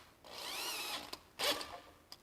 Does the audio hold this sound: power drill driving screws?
yes